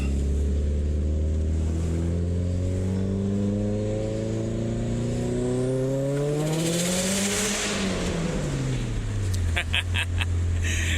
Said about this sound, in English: Oh, just the sound of the wastegate.